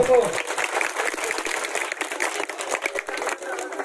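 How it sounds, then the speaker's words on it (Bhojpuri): Audience applauding during a garlanding at a Bhojpuri stage show, a dense continuous patter of many hands clapping at a steady level, heard close and without pause. "जैसे ही माल्यार्पण होगा जोरदार तालियां बजाइए दर्शकों"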